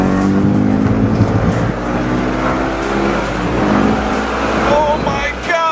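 A Gintani twin-turbo BMW E92 M3 tuned to 850 hp accelerates hard from inside the cabin, its engine note loud and climbing as the revs rise, with a brief shift near the end.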